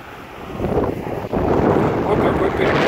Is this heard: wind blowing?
yes